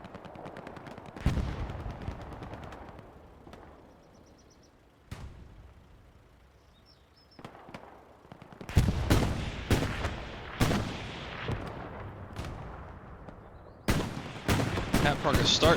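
Gunfire in Hell Let Loose, a World War II shooter match at Sainte-Mère-Église, peppers a bush in sharp, loud bursts of machine-gun and rifle shots, sparse at first and then dense and rapid, with occasional distant booms.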